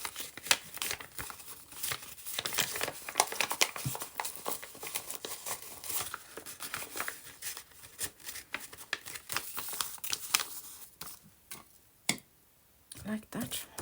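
Printed paper being folded and creased by hand to give it an antique look, with close dry crinkling and rustling in steady bursts, ending in a few faint scrapes after a short lull.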